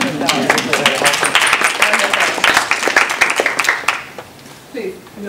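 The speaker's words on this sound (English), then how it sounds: "give yourself a round of applause" An audience breaks into dense applause and clapping for about four seconds, then it fades to a quieter patch as a voice begins speaking.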